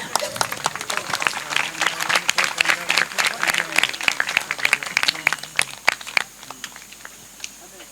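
Applause breaks out from the audience at a stage programme after a dance-drama, sharp claps thick at first, then thinning and trailing off toward the end, with some voices mixed in.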